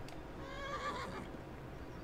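A horse in the medieval role-playing game Kingdom Come Deliverance gives a short, faint whinny that rises and falls over about a second, amid low background noise.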